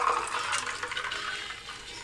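A cocktail is poured from a shaker tin straight back into a glass, a continuous close splashing trickle of liquid lasting the whole stretch.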